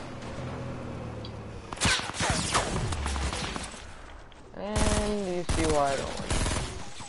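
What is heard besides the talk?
enemy gunfire in the video game Fortnite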